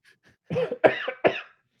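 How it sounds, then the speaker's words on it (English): Three rough, close coughs in quick succession, the first drawn out and the last two sharper. "Try not to cough into the mic"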